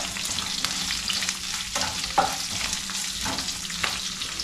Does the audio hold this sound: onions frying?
yes